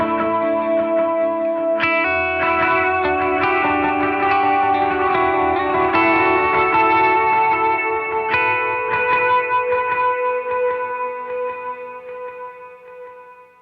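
Electric guitar through an OBNE Black Fountain V4 oil-can delay pedal, its modulated repeats warbling and wavering as chords ring out, loud and continuous, with plucked notes smearing into echoes before gradually fading near the end.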